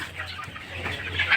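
Three-month-old Egyptian Fayoumi chickens cluck softly and steadily at close range, with a few sharper calls near the end.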